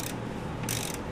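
A ratchet tightens sway bar bracket bolts on a Ford Escort GT during an Energy Suspension sway bar bushing install. It gives a close, continuous run of metallic clicking, with brighter bursts near the start and again toward the end.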